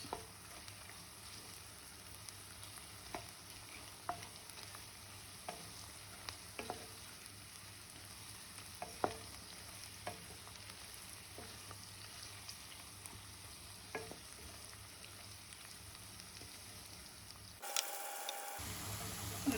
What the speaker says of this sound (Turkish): Salçamızı da kavurduk.